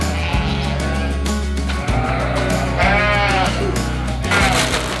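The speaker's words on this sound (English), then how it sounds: "Sheep are creatures of habit, and by the time we're finishing up our farm work, they're already herding to the gate" Several sheep bleat loudly at a farm gate while waiting for feed, overlapping wavering calls up close, one after another with barely a pause.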